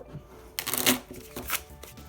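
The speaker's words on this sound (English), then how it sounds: "we're going to shuffle our antibiotic deck" A deck of antibiotic cards for the Empiric card game is shuffled by hand, producing a quick riffling burst followed by a couple of softer ruffles, close and fairly quiet.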